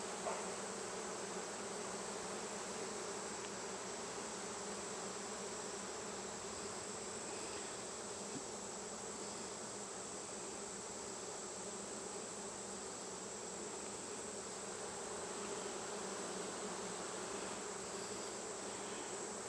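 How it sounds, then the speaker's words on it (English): Honey bees hum around an open hive during an August honey harvest, a dense continuous buzzing that stays close and steady throughout without any voices. "drop the bees at the front of the hive"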